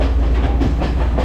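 Kandy to Ella train in the Sri Lankan mountains rolling along the rails, a steady loud rumble with faint clickety-clack and airy hiss, close and continuous, no voices.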